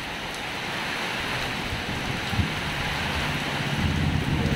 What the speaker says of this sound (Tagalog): Medyo lumalakas ang hangin.